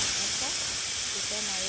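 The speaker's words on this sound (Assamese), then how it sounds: "এতিয়া মোৰ হুইচেল আহি গ'ল কুকাৰটো।" A pressure cooker cooking mutton trotters lets off steam through its whistle. The sound is a loud, continuous close hiss with faint tonal wavering over the top, steady from start to finish.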